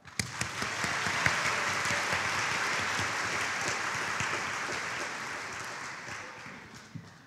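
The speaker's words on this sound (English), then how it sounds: "let's give another round of applause to the Murphy High School 4 Arts Club." Steady audience applause at a high school awards show, a sustained wash of many hands clapping that swells quickly, holds, then gradually tapers off.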